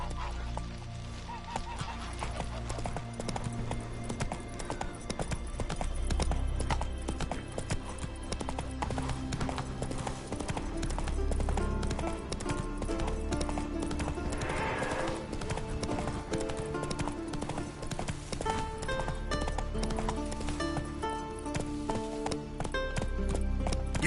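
Horse hooves gallop in a steady, fast clip-clop rhythm in The Witcher 3, continuous and fairly close over game music and ambience, with voices briefly heard.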